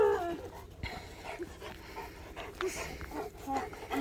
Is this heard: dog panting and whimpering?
yes